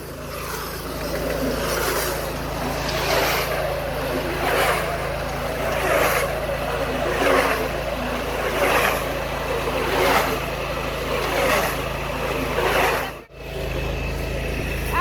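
A hay baler pushes a bale of wet rye for silage, a steady mechanical drone with a rhythmic surge roughly every second and a half, loud and close, with a brief dropout near the end.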